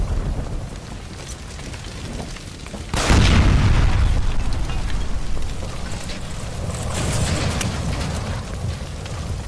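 A gas line by a stove blows up in the L.A. Noire Remastered game at an electroplating plant: a sudden loud, close boom about three seconds in, followed by a long rumbling roar and debris over steady background noise.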